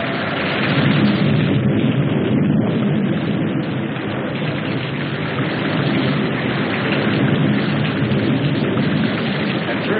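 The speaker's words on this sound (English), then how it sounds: "We didn't pay much attention to the rain, though it seemed heavier than any rain we'd ever seen" Heavy rain pours down in a dense, continuous roar, loud and unbroken throughout.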